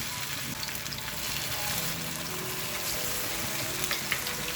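Fenugreek leaf and beaten rice (avalakki) mixture frying in hot oil over a medium flame, giving a steady, dense sizzle with soft crackles throughout, fairly close and even in level, with no talking.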